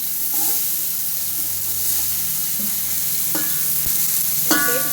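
Green chillies dropped into hot oil for mutton biryani give a steady close sizzle and frying hiss with a few stirring scrapes and clinks, no voices.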